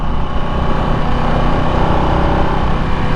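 Harley-Davidson Nightster motorcycle engine pulling in third gear, a loud, smooth and continuous drone heard up close with no pauses.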